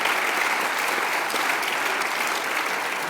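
A baccalaureate crowd claps for the graduates' parents, a dense and loud wash of many hands that holds steady without pause.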